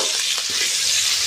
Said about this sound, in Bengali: আদাটা ভেজে নেব।